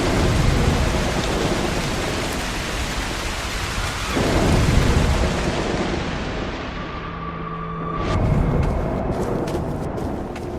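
A thunderstorm in the video game Broken Pieces brings steady, loud rain with deep thunder rolling in twice, swelling and fading over the downpour.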